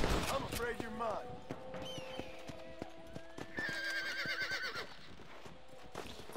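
Horse in Red Dead Redemption 2 whinnies loudly amid steady clip-clop hoofbeats, with game music and a voice over the top.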